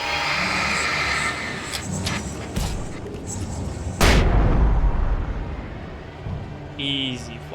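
Flashbang going off in the Alan Wake game, a sharp loud burst partway through, set over a busy, noisy game mix with a voice talking at times.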